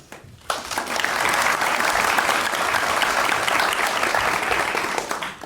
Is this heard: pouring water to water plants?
no